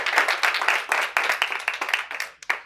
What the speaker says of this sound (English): give Seth a big round of applause.